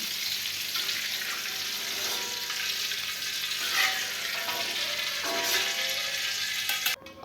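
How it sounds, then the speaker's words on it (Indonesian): Purple eggplant frying in hot oil, a steady close sizzle with soft crackles and occasional stirring, no talk, cutting off abruptly at the end. "Ini terongnya digoreng sebentar saja sampai warnanya agak sedikit kecoklatan."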